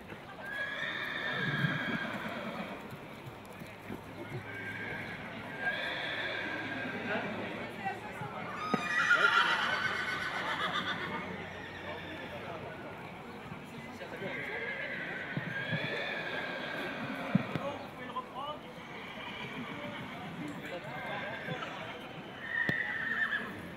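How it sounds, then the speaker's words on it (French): A racehorse at a horse show neighs and whinnies repeatedly while hooves clip-clop, with crowd chatter and announcements running throughout in a busy outdoor ring. "voilà ce que c'est qu'un cheval de course"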